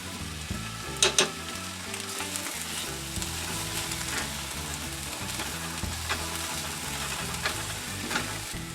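Chopped mushrooms and garlic frying in a pan: a dense, steady sizzle throughout, close and even, with a couple of brief louder stirring scrapes early on.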